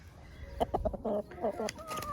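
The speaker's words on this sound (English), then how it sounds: "Oh, that's the rooster." A rooster on a farm makes a short burst of clucks and crowing calls, fairly close and moderately loud, with a bit of rustling around it.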